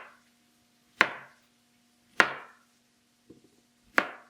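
Knife chopping yellow squash into half-inch rounds on a cutting board: three sharp, evenly spaced chops with a softer tap between the last two, close and clear, without talk.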